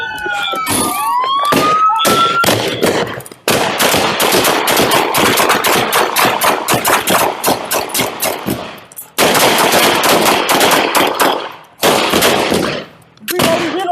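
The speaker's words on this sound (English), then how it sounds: "Shots fired! Shots fired! Police action shooting!" Rapid, sustained gunfire during a police shootout with an armed suspect, loud and close with dense repeated cracks, briefly pausing a few times, over a wailing siren at the start.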